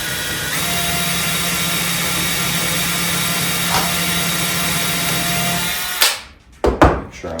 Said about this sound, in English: I might need a slightly bigger drill bit actually.